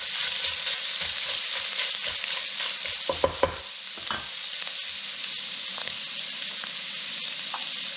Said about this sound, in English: Got some melted butter here in the saute pan. I'm going to add the beef. Then I'm just going to brown it.